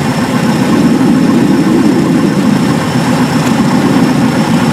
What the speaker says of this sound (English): To begin the descent, reduce the power to idle.